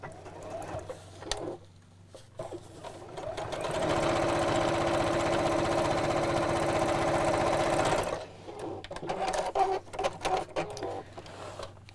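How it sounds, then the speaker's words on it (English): A sewing machine stitches straight across the top of a fabric bag flap, a loud, steady whirring run of about four seconds between quieter handling and fabric rustles before and after. "sew straight across the top just within the seam allowance"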